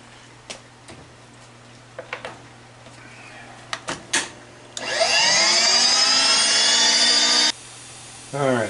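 A milling machine fitted with a Metal Masters flycutter runs with coolant. A few sharp clicks and knocks come first, then the spindle spins up into a loud, rising whir that cuts off and then starts again near the end.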